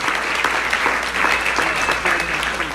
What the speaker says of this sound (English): Clap it up for the McLean County Democrats for this event.